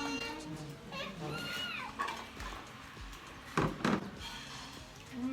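A cat meows a few times in a Bicol home during a family meal, fairly faint, among voices, soft knocks and clatter.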